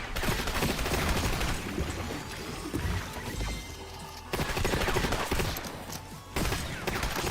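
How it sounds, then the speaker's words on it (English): Bursts of rapid gunfire crackle loudly and almost continuously in a video game, aimed at the player, with brief lulls between volleys. "Why are you shooting at me?"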